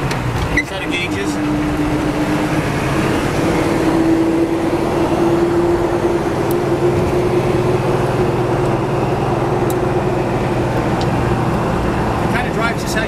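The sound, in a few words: 1952 Suburban driving on test drive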